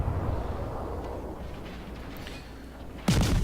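Warship guns firing in the naval combat game World of Warships: a low, rolling rumble of distant gunfire carries throughout, then a single sharp, loud blast cuts in near the end.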